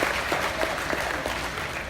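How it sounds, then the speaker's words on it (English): Steady applause from a crowd at a livestock sheep show ring, dense even clapping throughout, moderately near and without talk over it. "Please give Mr. Gene Wynn a huge round of applause and thank him for coming out to sort through our sheep show this year."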